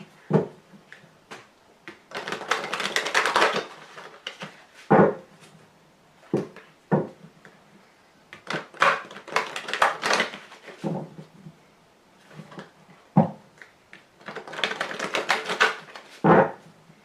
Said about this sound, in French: je vais ici tirer 5 cartes